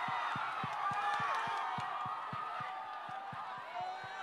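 A concert audience at the 2018 Sony Sống Là Phải Đậm live show claps and cheers in a broad, continuous roar, with a steady thumping beat pulsing underneath.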